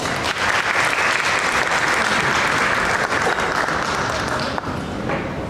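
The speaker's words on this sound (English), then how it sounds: "Please give her a huge round of applause." Crowd at a Toastmasters youth leadership program gives a big round of applause for an award winner, loud sustained clapping from many hands that holds steady, then thins near the end.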